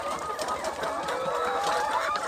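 Chickens clucking continuously at close range during an ND-IB emulsion vaccine injection, a dense busy chorus of fowl calls with no speech.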